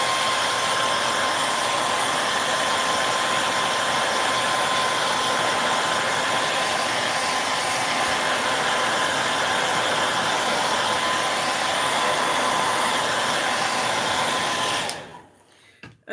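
Hair dryer blowing on a stencilled painted surface, a steady close whirring roar that runs unbroken for about fifteen seconds, then cuts off.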